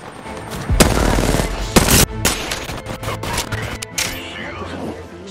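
Gunfire in the video game Apex Legends, several loud bursts and sharp shots cracking close by in quick succession, with faint in-game noise between them.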